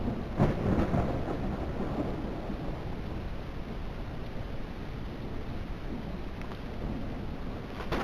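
Thunder rolls through a steady downpour during a thunderstorm in Detective - Rainy Night, a low rumble swelling early then fading under continuous hissing rain.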